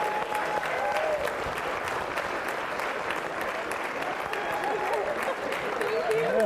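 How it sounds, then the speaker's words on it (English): An audience at a gathering gives a sustained round of applause, dense and steady clapping at moderate distance with a few voices mixed in. "I think we should just give Janice a big round of applause."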